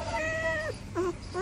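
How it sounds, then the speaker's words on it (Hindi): A pet cat meows twice up close, a high, wavering cry followed by a shorter rising call. "ये देखो भाई चाचा की बिल्ली"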